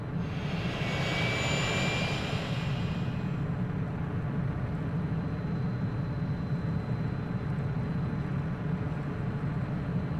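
An aircraft engine in the Soviet-era city-building game Workers & Resources: Soviet Republic, a steady low drone with a faint high whine that fades early on, constant and uninterrupted for about ten seconds.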